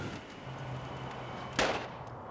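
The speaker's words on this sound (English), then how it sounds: "You can see the fire fully engulfed and those explosions going off early this morning." A car fully engulfed in flames in front of a house sends out a single sharp explosive bang partway through, loud and close over a low, steady crackle of fire.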